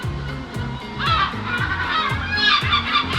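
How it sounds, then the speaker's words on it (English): Several seagulls call loudly in a Scottish city with harsh, repeated cries over a steady low rhythmic rumble, the squawks overlapping in bursts. "Let's just wait for the seagulls to finish."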